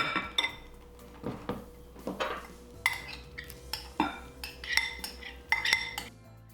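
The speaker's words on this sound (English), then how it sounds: "So you just want to mix them until they're broken down." A utensil stirs defrosted blueberries with applesauce and sugar in a bowl. Close, rhythmic scraping and clinking strokes repeat steadily, with sharp metallic chinks on each pass.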